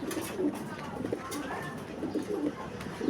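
Jensen line female pigeon cooing softly nearby in a loft, with low repeated coos and faint chirps over steady background noise.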